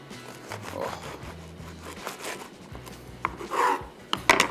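Serrated bread knife sawing back and forth through a beef cheeseburger in a bun, soft scraping and rasping strokes up close, ending in a few sharper crackling cuts.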